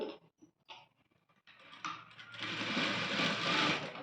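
A sewing machine runs in a short burst while stitching invisible thread piping, starting after a few quiet taps and clicks and then whirring steadily and close for the final couple of seconds.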